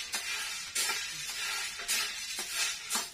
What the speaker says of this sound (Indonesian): Acara goreng minde.